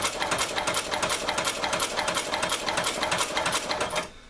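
An electrified Chinese sewing machine runs steadily for about four seconds, its rapid, even mechanical clatter close and loud, then it stops abruptly near the end.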